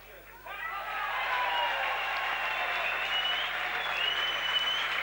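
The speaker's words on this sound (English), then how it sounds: "And the big cheer is for Franz Beckenbauer" A stadium crowd at a 1979 New York Cosmos versus Adelaide City soccer match cheers and applauds for Franz Beckenbauer, a broad, sustained roar with clapping that swells after a brief start, with an announcer talking over it.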